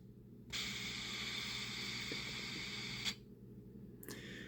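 An Athearn Genesis Chessie model caboose's Soundtraxx sound decoder plays a brake release: a loud hiss of air bursts out and holds steady for a few seconds, stops abruptly, then a shorter hiss follows.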